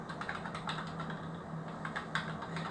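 Fingers type on a computer keyboard nearby, a quick uneven patter of light key clicks that runs continuously for a few seconds over quiet room noise.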